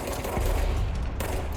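Rapid gunfire shooting at enemies in the video game Control, a loud burst of repeated shots with sharp cracks and a low thump, continuous for a second and a half.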